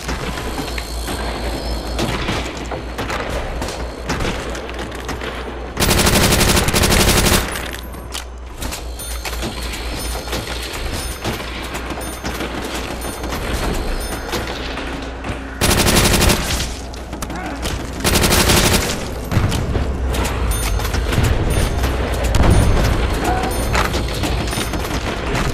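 Sniper rifle fire in the Nazi Zombies game: three loud, sharp broadband blasts spaced several seconds apart, standing out over a busy background of game noise and action.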